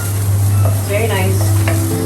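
Garlic added to frying rice in a hot pan for chicken fried rice, a loud, close, steady sizzle over a constant low hum, with brief stirring scrapes.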